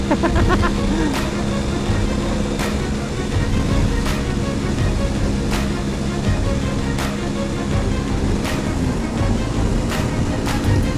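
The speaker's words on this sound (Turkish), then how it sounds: "Aşırı rüzgar var." Heavy, constant wind roar buffets the mic while riding a Honda CL250 motorcycle in fifth gear, with a steady engine drone underneath.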